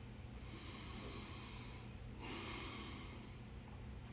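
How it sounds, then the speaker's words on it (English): Deep breathing close to the microphone: a long, slow inhale-like hiss, then a second stronger breath swelling and fading, alone over a low hum. "I want to invite you to breathe with me"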